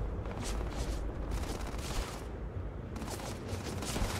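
Sustained gunfire in the sci-fi game Starfield, a dense continuous barrage of shots with booming low end, loud and close, no talking.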